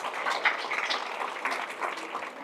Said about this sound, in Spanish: Fuertes aplausos a nuestro Dios.